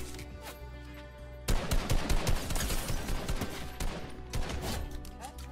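Gunfire in the video game Fortnite Battle Royale: after a quiet stretch of background game audio, rapid bursts of shots erupt and continue in clustered volleys, fairly close and loud.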